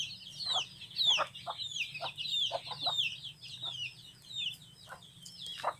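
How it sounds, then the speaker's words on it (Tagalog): Chickens clucking in short, repeated bursts close by, with sharp high bird chirps overhead and a low steady hum beneath. "Ayun na guys, yung mga manok na rin."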